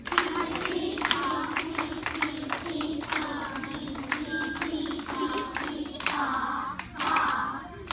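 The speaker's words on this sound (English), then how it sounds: "the teaching will clap it and say it." First graders in a school music class clap a rhythm together, a steady run of sharp group claps over a constant background hum, with a few raised voices mixed in.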